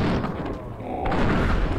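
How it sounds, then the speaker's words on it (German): Gunfire in the video game Fallout: New Vegas, a loud booming blast filling the whole short stretch with dense low-end thump, fighting Jackal Gang members. "Zwei Schüsse."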